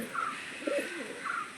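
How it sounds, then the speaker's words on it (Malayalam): A yellow-eyed female pigeon in a loft gives a few soft, low coos, close by and fairly quiet, with no talking over them. "പ്രാവ് ഫീമെയിലാണ്."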